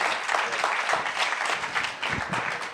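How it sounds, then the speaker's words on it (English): An audience applauds steadily for a speaker named Jared at a theater, dense continuous clapping at moderate loudness for the whole stretch. "please give a very warm round of applause for Jared"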